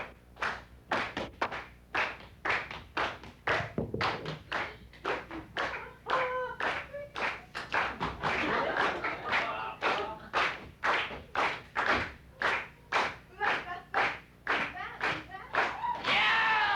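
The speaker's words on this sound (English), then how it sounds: "Everybody clap real quick." An audience claps in quick unison along with a drummer, sharp rhythmic hand claps repeating steadily and fairly close, with drum hits and occasional voices woven in between.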